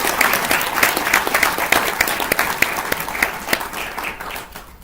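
Applause at a graduation ceremony, a dense crowd clapping steadily and loudly for several seconds before tapering off toward the end, with no voices over it.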